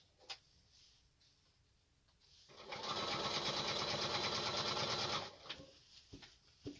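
A sewing machine runs steadily for about two and a half seconds, stitching and back stitching a quilt binding a quarter inch in along a crease, loud and close, with quiet handling noises before and after.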